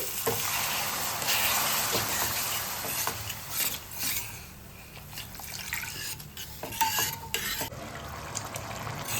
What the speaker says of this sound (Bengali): এবারে দিয়ে দেবো আন্দাজ মতন জল, আন্দাজ মতন জল দিয়ে দিচ্ছি